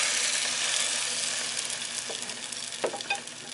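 Bread soaked in egg, milk and cinnamon fries in a pan on a single electric burner, giving a steady close hiss of sizzling with a few soft pops and scrapes toward the end.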